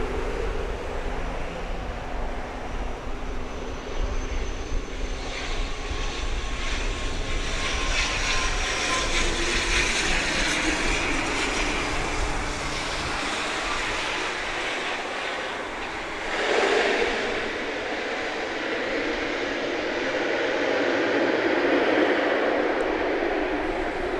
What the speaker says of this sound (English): We're about to see it touching down here at Owen Roberts International Airport.